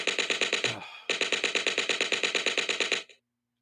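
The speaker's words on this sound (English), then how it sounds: "that machine gun sound effect" Rapid machine gun sound effect, full-auto fire in a fast even rhythm of sharp bursts with a slight echo, breaking off briefly after the first burst, then resuming for about two seconds before stopping dead.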